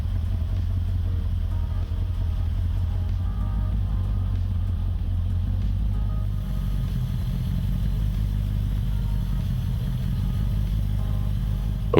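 A BMW 4.6iS V8 idles unevenly, a low, rumbling engine note with slight clatter that runs continuously. The idle drifts and shifts partway through instead of holding steady.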